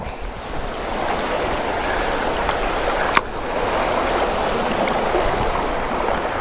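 Fast water rushes in a steady, broadband wash at the tail of a Georgia stream pool, close and continuous, with a couple of sharp clicks partway through.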